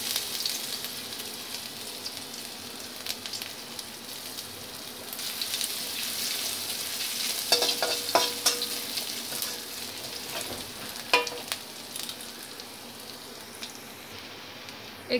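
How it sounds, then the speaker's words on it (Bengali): Crushed ginger and garlic sizzle in hot oil with cumin seeds in a pan, a soft, steady frying hiss broken by scattered crackles and pops partway through. "থেঁতো করা আদা রসুনটা দিয়ে দেবো।"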